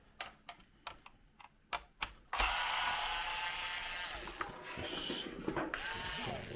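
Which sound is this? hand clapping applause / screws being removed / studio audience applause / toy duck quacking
screws being removed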